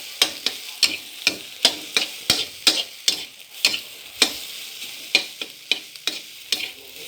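Egg and rice are stir-fried in a pan, a spatula scraping and clacking in a quick, uneven rhythm of about twenty sharp strokes over a soft sizzle, close and clear with no talk.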